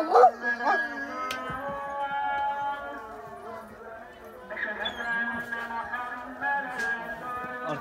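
Large dogs, a Cane Corso and a Dogo Argentino, bark, yip and whine close by inside a new, unfinished dog house, with long drawn-out whimpering tones between sharper barks and some human voice mixed in.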